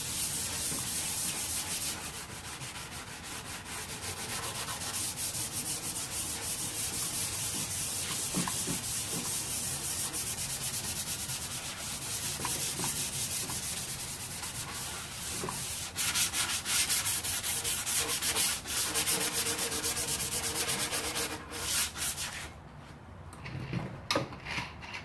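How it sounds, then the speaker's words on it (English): Hand sanding scuffs the surface of a wooden nightstand before painting, a long continuous scratchy rubbing with steady back-and-forth strokes close by, pausing briefly near the end. "That's all there is to the prep sanding that we do."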